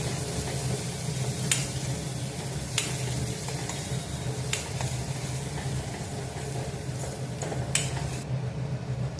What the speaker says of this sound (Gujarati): પછી તેની અંદર આપણે ડુંગળીની ગ્રેવી છે તે અંદર પહેલાં ઉમેરી દઈશું અને તેને આપણે હલાવીને 1 થી 2 મિનિટ સુધી થવા દઈશું